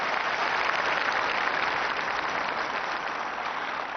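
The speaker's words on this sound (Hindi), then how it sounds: "आइए सत्सम्मान एक बार फिर जोरदार तालियों से अभिनंदन करें" A large audience at a National Handloom Day event at Bharat Mandapam applauds the Prime Minister, a thick, continuous roar of clapping that stays loud and even throughout.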